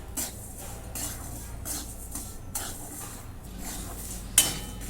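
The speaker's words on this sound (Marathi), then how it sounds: "त्याच्यात थोडे शेंगदाणे टाकून घेते आता भाजून घेते" Peanuts dry roasting in a pan over a low gas flame, with repeated scraping stirring strokes at a steady rhythm and a light background rustle. The sound is close and moderately loud, and no one speaks.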